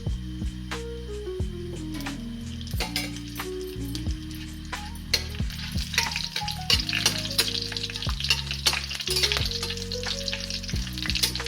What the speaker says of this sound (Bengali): সম্বারের জিনিসগুলো আমি ভাজা ভাজা করে নিলাম।